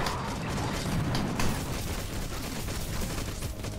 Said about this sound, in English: Rocket launcher loads so slowly.